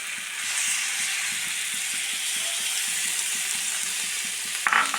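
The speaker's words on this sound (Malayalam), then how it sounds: "നന്നായി മിക്സാക്കി കൊടുക്കാം." Chicken curry with poured-in stock and ash gourd cooked with turmeric and salt is stirred in a pan, a sizzling bubble with steady rhythmic scraping strokes, close and alone with no talk, ending in a brief clatter.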